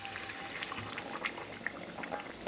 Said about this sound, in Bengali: এই গরম জলটা ঢেলে দেবো।